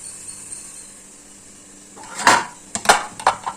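Metal idli plates clatter and clink as they are lifted out and handled in a home kitchen. A quiet stretch comes first, then several sharp, close metallic knocks and scrapes in quick succession.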